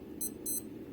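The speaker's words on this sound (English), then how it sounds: "the watch is going to beep at the top of every hour" A Casio AE1500 digital watch sounds its hourly chime: two short, bright electronic beeps in quick succession, close and clear over a quiet background.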